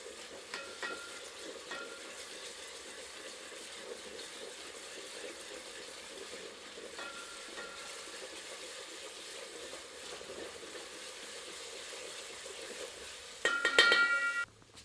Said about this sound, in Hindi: सबको मिलाकर 3 से 4 मिनट मध्यम आंच पर भूनते हैं।